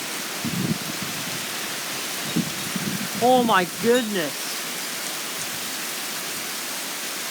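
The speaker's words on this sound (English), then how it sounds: "And now the rain. Now it's officially coming down." Heavy rain pours steadily during a severe thunderstorm, a dense constant hiss filling the whole stretch, while a voice briefly exclaims over it midway.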